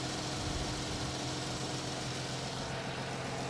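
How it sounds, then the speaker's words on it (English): A damaged car's V6 engine idles smoothly and steadily, a low, even hum with a faint mechanical whir, recorded close by with nobody talking. "Pretty smooth engine."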